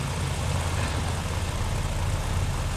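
A propeller aircraft engine runs steadily in Microsoft Flight Simulator 2020, a loud, even low drone with no change in pitch, heard alone.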